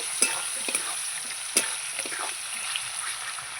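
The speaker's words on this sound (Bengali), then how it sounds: "অল্প একটু হলুদ দিয়ে দিলাম একটু লবণ দিয়ে দিলাম দিয়ে আমি ভালো করে নাড়িয়ে নেব" Fish seasoned with turmeric and salt sizzles steadily in a frying pan as a utensil stirs it, giving a few sharp scrapes and taps over the continuous hiss of hot oil, close by.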